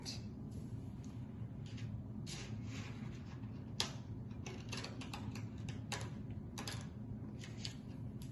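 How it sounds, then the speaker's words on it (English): Scissors snip through craft paper in a quiet room over a low steady background hum, several short crisp cuts at irregular intervals, close and faint. "Now take your scissors and cut."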